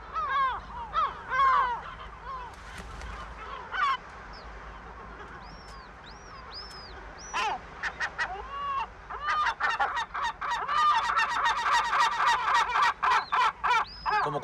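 Gulls and their chicks call on the island of Cabrera: repeated harsh cries and thin piping calls, close and loud, overlapping in dense bursts that grow busier toward the end.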